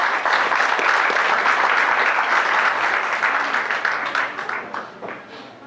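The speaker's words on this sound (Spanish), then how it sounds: "Un fuerte aplauso" An audience at a formal education event in El Salvador breaks into loud, dense applause that holds steady for several seconds, then thins and fades.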